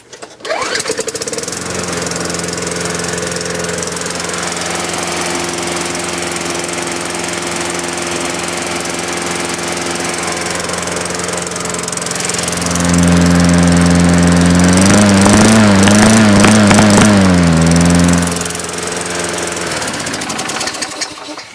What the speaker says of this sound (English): that was a serious cold start